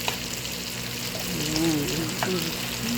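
Chopped onion added to one side of a hot pan sizzles in oil with a steady, close frying crackle, while faint voices sound in the background.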